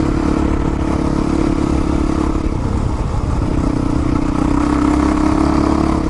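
Yamaha WR450F dirt bike riding through the Coconino National Forest, a loud, close, steady engine drone with rattling clatter and slight rises in revs, no voices.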